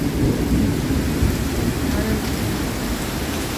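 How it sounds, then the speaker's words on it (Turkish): Very heavy rain pours onto a flooded balcony in Istanbul during a violent storm, a dense, loud, unbroken hiss and patter with a deep rumble underneath. "Mermi büyüklüğünde yağıyor yağmur öyle söyleyeyim arkadaşlar. Çok şiddetli yağıyor."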